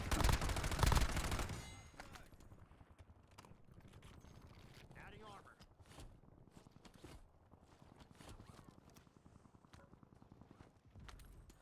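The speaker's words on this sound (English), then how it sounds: "Who the fuck is shooting?" Video game gunfire opens with a loud, dense burst of rapid shots, then continues as scattered, quieter sharp cracks and clatter over a low background.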